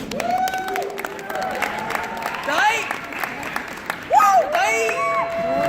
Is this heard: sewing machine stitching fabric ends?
no